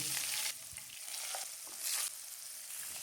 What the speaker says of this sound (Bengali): তেল গরম হলে মাছগুলো ছেড়ে দিচ্ছি।